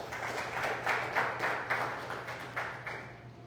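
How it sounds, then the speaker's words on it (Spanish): Church congregation clapping in praise at a Spanish-language sermon, a moderate, fairly rhythmic patter of hands in a resonant room over a low hum. "Denle un aplauso al Señor."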